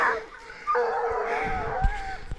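Hunting dogs bay and yelp during a hunt in long, wavering howls at a moderate distance, several voices overlapping, with a few sharp knocks near the end.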